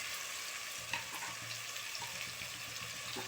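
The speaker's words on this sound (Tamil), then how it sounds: "இந்த தேங்காய் பார்த்துட்டிங்கன்னா இந்த மாதிரி இந்த எண்ணெயிலேயே வணக்கிடுங்க." Grated coconut frying in oil for Kongu-style paruppu sadam, a soft steady sizzle with faint occasional stirring clicks, quiet and close.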